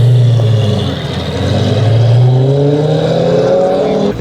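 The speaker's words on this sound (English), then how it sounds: "They got an Abarth coming through." An Abarth car drives past close by, its engine rising in pitch as it accelerates, a loud steady exhaust drone with no talking over it.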